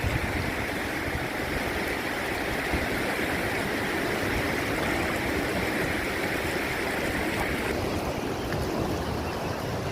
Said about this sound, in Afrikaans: So 'n laaste kyk na daai sterk stroom.